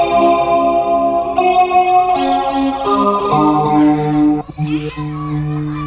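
Sustained guitar chords run through the modulation effect of a TANK-G multi-effects unit, the tone wavering rhythmically, with a brief dip and scrape near the end.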